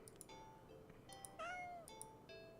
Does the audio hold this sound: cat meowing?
yes